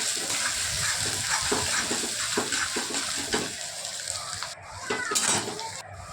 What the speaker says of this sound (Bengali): পেঁয়াজ আর রসুনটা তেলের মধ্যে ভাজা ভাজা হবে।